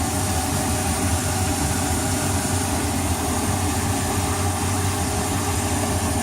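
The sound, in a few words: boat engine running after hard start repair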